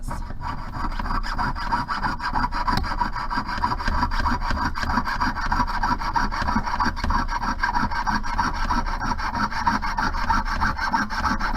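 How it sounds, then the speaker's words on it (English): Steady, rapid back-and-forth rasping of a hand saw cutting through metal flatware, loud and continuous with no pauses. "the way that you get faster at sawing is you learn to utilize the entirety of the blade"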